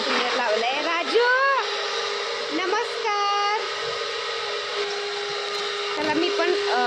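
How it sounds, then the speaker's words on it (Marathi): A vacuum cleaner cleans the inside of a car, its motor holding a steady, close whine throughout while people talk over it. "काय व्हॅक्यूम क्लीनर लावलाय।"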